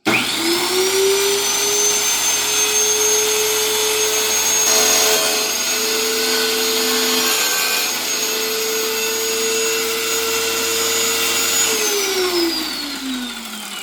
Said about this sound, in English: Using a wet saw, I was able to get it nice and trimmed.